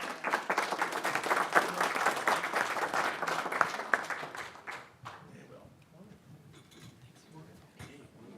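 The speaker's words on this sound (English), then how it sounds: "Let's give them a round of applause." A crowd at a county board meeting breaks into loud applause, dense clapping for about five seconds before it thins out into scattered claps and quiet murmuring.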